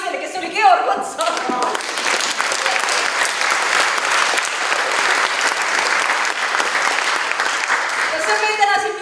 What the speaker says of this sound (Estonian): Palun aplausi naisele, kes oli Georg Otsa.